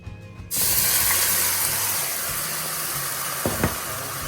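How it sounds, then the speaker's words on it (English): Chuck roast beef pieces dropped back into a hot pan for beef and barley soup, a loud sudden sizzle that bursts in and keeps hissing steadily, with a brief clatter near the end. "we're going to put our beef back into the pan that we just cooked"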